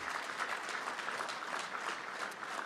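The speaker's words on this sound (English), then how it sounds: "Give them a round of applause." Steady applause from the audience at a mayoral launch event for a DC infrastructure academy honoring new graduates, dense continuous clapping at moderate level with no talk over it.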